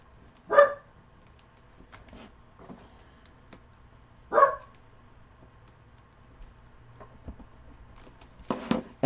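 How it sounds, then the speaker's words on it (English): A dog barks indoors in a crafting room, two clear single barks several seconds apart and a short burst at the end, moderately distant over a quiet background. "Sorry if you hear my dog barking."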